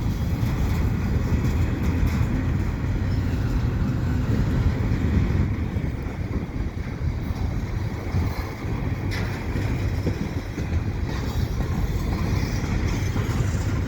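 A CP freight train carrying auto racks rolls past at Dorval, a steady, continuous low rumble and rolling noise sustained throughout, fairly close and without pause.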